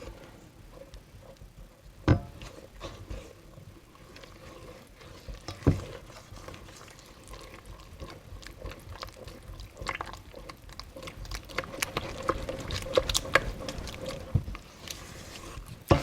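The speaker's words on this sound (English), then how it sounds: "I'm just going to mix that with my spatula until it's creamy" A spatula mixes flour into creamy dinner roll dough in a bowl, giving soft, uneven scraping and slapping strokes with occasional sharper knocks against the bowl, close and fairly quiet.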